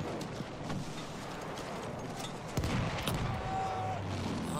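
Mortar rounds and gunfire in the World War I shooter Battlefield 1 thud and crack at a distance, with scattered sharp reports and a heavier blast near the middle over a constant low battlefield rumble.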